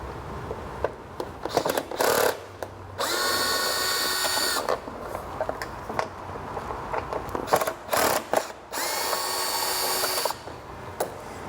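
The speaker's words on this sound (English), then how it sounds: "I'd recommend having a number 3 size Phillips driver, so the next larger size" A power driver with a Phillips bit spins out shoulder bolts on a Vespa ET4 scooter's trim, several loud whirring bursts of a few seconds each, separated by clicks and handling noises.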